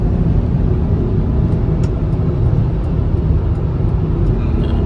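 A 2006 Honda Pilot 4WD with a newly replaced passenger-side CV axle cruises at highway speed, a steady loud broadband road and wind roar with low rumble throughout and no talking.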